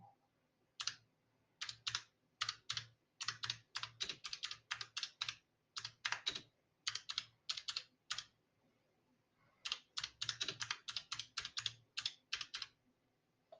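Fast bursts of typing on a computer keyboard while entering text into a spreadsheet cell in Excel, the clatter coming in quick rhythmic runs separated by short pauses, close and clear with no talking.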